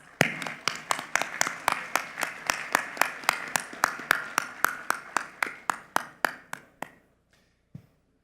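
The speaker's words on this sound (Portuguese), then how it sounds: "Uma salva de palmas." At a congress on the information society, a speaker's introduction draws evenly spaced, sharp claps in a steady rhythm, sounding like only a few hands. The claps slow and stop, followed by a near silence and one last clap.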